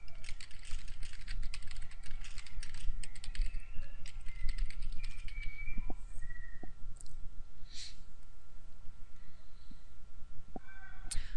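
Typing on a computer keyboard, entering a sentence into a word processor: a fast, irregular run of close, crisp key clicks that continues throughout with no talking.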